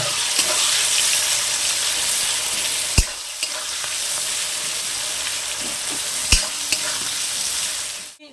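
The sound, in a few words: onions frying in a pan until reddish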